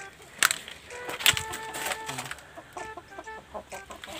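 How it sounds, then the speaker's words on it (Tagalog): Chickens in a backyard coop cluck in short broken bursts, close by, with a couple of sharper louder squawks and scattered farmyard noise between them. "So kita nyo yan, may manok pa tayo doon."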